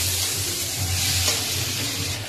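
Chili paste frying in oil in a pan while being stirred, a steady close sizzle with soft scraping throughout, no voices.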